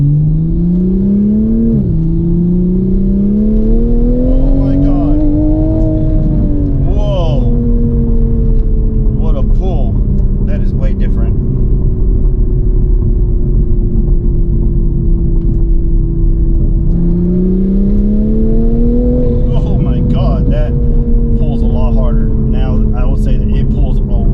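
A 2023 GR Supra fitted with a catless downpipe and JB4 drones loudly from inside the cabin with windows up, its engine note rising and falling through two long revs while people talk over it.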